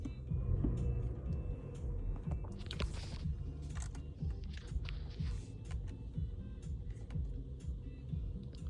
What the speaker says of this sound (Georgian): ავტომობილი დაქოქილია.